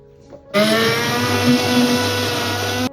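A mixer grinder starts up after a brief quiet moment and blends kevla with water, running as a loud, steady whir until it cuts off at the end.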